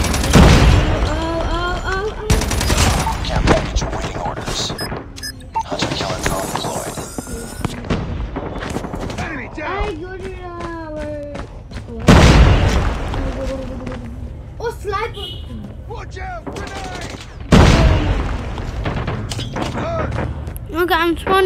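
Loud in-game gunfire and explosive booms from a Call of Duty match, heavy impacts recurring every few seconds with scattered shots between, mixed with busy game sound and players' voices talking over it.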